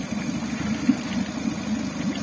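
A Tohatsu 30 EFI outboard motor idles steadily just after a cold first start, a low, even mechanical hum with faint rhythmic knocking, running alone without voices.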